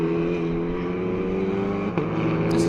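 Front-drive TCR touring race cars run down the long straight at Circuit of the Americas, a continuous, loud, buzzing engine drone with a brief dip like a gear change near the end.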